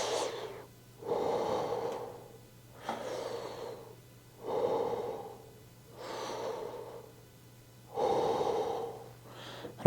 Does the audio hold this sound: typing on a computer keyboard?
no